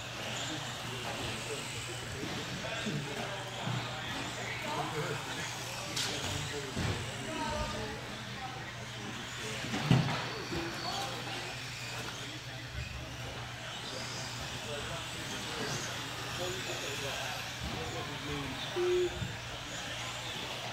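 RC short course trucks, including a green one and a blue-and-silver one, race around an outdoor dirt track, their motors a faint, steady buzz far off beneath a race announcer's voice.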